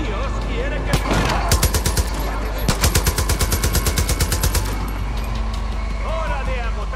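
Automatic gunfire in Far Cry 5 fires in two bursts of rapid, evenly spaced loud shots, the second burst longer, over a steady low engine rumble, with a voice talking near the end.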